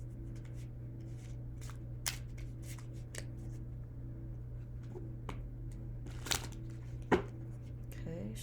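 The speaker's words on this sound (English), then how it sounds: "Okay, shuffle, shuffle, shuffle here." Tarot cards shuffled by hand: a few soft, brief riffles and taps spread across the stretch, fairly faint, over a steady low electrical hum.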